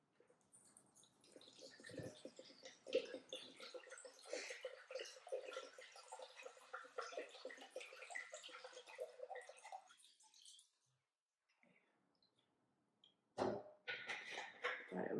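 Ethanol is poured into a spray bottle, a quiet, bubbling liquid trickle running steadily for about ten seconds, then stopping before a short final splash of pouring.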